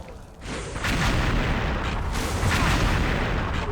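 Explosions and gunfire in the shooter game XSHOT: a heavy boom erupts and rolls into a loud, sustained rumbling roar of blasts and shots that barely fades.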